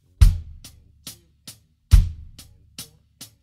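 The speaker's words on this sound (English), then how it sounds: "And now it's going to be on the bass drum." A drum-set beat with the bass drum thumping on beats one and three under lighter hi-hat ticks, a steady, close, dry pattern repeating twice with no talking.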